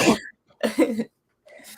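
A single person's cough, close and loud, followed by a shorter throaty cough and a faint trailing breath, with no speech.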